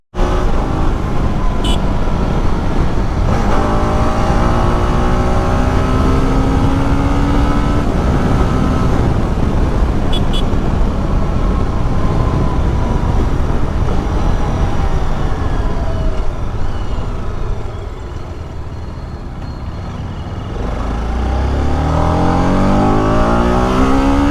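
A TVS Apache RR 310 motorcycle with a 300 cc engine and about 1,931 km on it accelerates hard and loud, its engine pitch climbing through repeated gear rises, easing briefly before surging again, with no talk.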